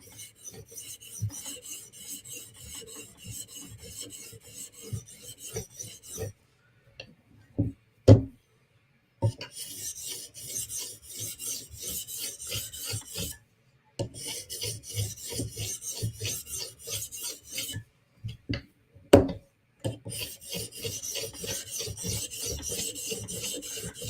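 Quick strokes of a knife blade across a sharpening stone give bursts of rhythmic rasping, sharp and close, broken by short pauses and a few knocks as the blade is set down or flipped.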